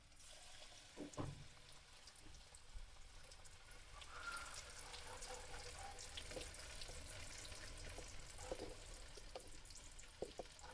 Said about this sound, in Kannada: ನೋಡಿರಿ, ಈ ಥರ ಫ್ರೈ ಮಾಡ್ಕೋಬೇಕು ನಾವು, ಗೋಲ್ಡನ್ ಬ್ರೌನ್ ಥರ.